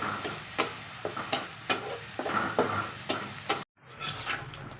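Crab curry masala with garlic, onion and whole spices sizzling in oil in a pan, stirred with repeated scraping strokes about every half second, close and steady, then a brief pause before frying resumes.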